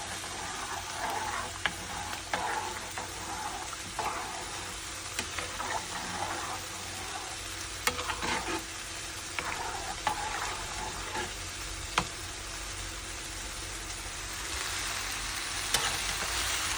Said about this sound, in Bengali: ডালটা নাড়া দিতে হবে।